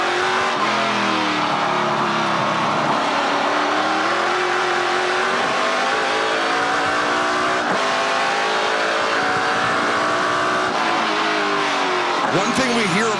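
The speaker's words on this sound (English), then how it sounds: "One thing we hear about these cars, Dave, it is a lot of horsepower for the car" NASCAR Pinty's Series stock cars race in a 50-lap event, their loud engines droning and rising through gears steadily from start to finish, with occasional shifts and a sharp tire squeal near the end, under race commentary.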